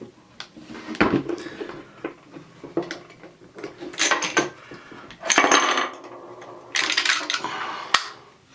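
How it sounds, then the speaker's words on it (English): Metal rifle cartridges clatter and click as they are pushed from a stripper clip into a Mosin Nagant's magazine, a close run of sharp metallic snaps and rattles in uneven bursts with no talking. "I'm going to show you how easy loading that stripper clip is"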